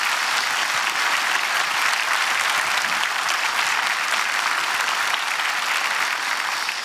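Loud, sustained applause from a church congregation welcoming an honored guest at a dedication service, a dense, steady wash of clapping that holds evenly throughout.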